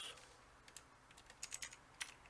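Code being typed on a computer keyboard while writing a Discord.py bot command setup: a scattering of quiet, light key clicks in short bursts, faint and close, with no voices.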